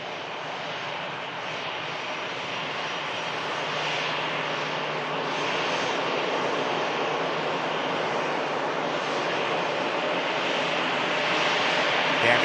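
An easyJet airliner arriving produces a steady, broad jet roar that swells gradually as it draws nearer, loud and continuous with no voices over it.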